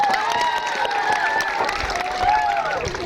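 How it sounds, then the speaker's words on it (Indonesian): An audience claps and cheers at a school's 62nd anniversary celebration. The dense applause runs continuously and fairly loud, with a voice ringing out over the crowd. "Sekali lagi mari kita tepuk tangan untuk mereka."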